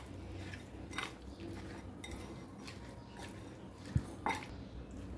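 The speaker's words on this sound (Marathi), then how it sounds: "आता याला सर्व असं मिक्स करून घ्यायचं" Spoon stirring chaat ingredients in a bowl, including khari boondi and pomegranate seeds, with soft scraping and a few light clinks against the dish, one sharper knock near the end, quiet and close.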